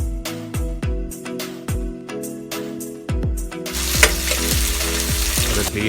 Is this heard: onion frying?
yes